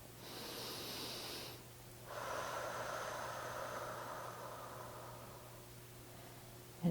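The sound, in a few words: deep breath during guided meditation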